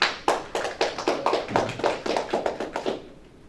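At a school district meeting, a single person claps about a dozen times in an even rhythm. The claps are close and crisp, then stop and leave a quiet room.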